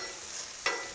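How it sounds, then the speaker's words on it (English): Mushrooms sizzle steadily on a hot griddle, a soft crackling hiss with a brief louder pop near the end. "Love that sizzle sound."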